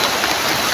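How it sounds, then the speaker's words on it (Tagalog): Heavy rain pours steadily outside a house, a dense, continuous hiss filling the whole moment with no break. "Kasi umuulan eh. Ang ingay ng ulan."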